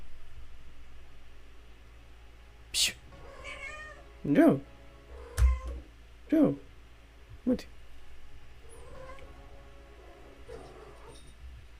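A pet cat gives a run of distinct, fairly close meows, spaced a second or two apart, with a voice speaking briefly between them.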